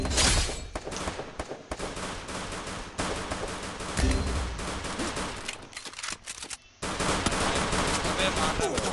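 Dense bursts of rapid automatic gunfire from the Free Fire mobile battle royale game overlap and fire continuously, loud and close with short gaps, under game effects.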